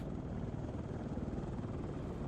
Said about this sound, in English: And there goes the helicopter, too.